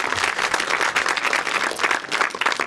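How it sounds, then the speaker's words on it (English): Steady audience applause for a speaker at a cultural talk event on environmentally friendly culture, a dense, even patter of many hands clapping throughout with no speech over it. "Let's give her a nice round of applause."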